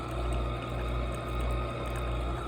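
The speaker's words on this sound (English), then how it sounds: "Let it get any last drips." Coffee maker pushing out its last water, a steady low watery trickle and gurgle with a constant hum underneath, even and unbroken throughout.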